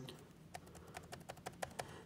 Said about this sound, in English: I'm currently pressing the arrows on the keyboard